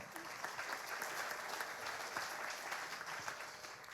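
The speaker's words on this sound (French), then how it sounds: "Je pense qu'on peut l'applaudir, il ne l'a pas dit." Steady audience applause at a Paralympic sports awards ceremony, a dense wash of many hands clapping evenly for about four seconds, moderately loud and continuous with no speech over it.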